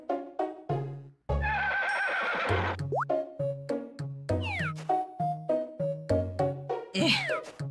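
A horse whinnies in the farming game Harvest Moon: Island of Happiness, a bright synthesized neigh heard amid a steady pattern of plucky repeating game sounds and meow-like tones, loud and continuous with no talk.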